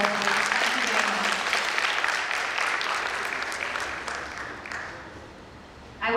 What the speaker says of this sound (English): Let's have another round of applause for Ms. Kaur